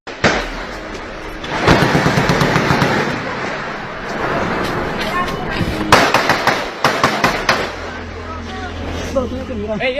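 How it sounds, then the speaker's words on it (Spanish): Repeated sharp cracks of gunfire, some in quick bursts, ring out over a noisy background with a murmur of voices. "Sin embargo, los disparos no cesan."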